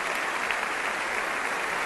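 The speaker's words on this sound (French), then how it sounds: "un applaudissement pour les frères de la Calle Ochenta" A church congregation at a Bible study gathering in La Colina, Bogotá, applauding, with dense, even clapping that fills the whole moment without a break.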